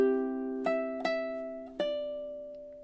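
A ukulele picks out a bar of the Margaritaville melody: three plucked notes ring out and sustain over a held chord, played clean and close with no talking.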